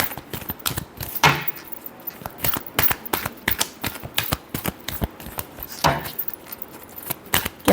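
Tarot cards being shuffled in a fortune-reading session, a dense run of quick crisp riffling flicks and soft slaps, close and fairly loud, with two sharper bursts of snapping card edges partway through and no talk.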